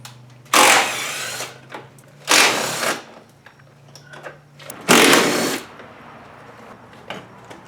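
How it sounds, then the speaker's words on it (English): A power tool whirs in three loud bursts, each lasting about a second, removing side panel bolts on a Honda CRF230F dirt bike, separated by quieter pauses with faint background noise. "I'm going to use power tools because they're a lot faster"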